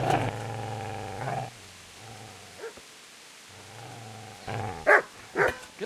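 A dog in Kingdom Come: Deliverance snarls at the player with deep, rumbling growls in several bursts separated by short pauses, then sharper, louder snaps toward the end, close and without talk.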